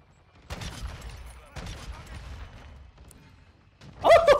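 Sniper rifle fire in an online shooter using the SA-B 50, with a few separated sharp shots and their tails spaced over a few seconds, followed by a voice exclaiming loudly at the end.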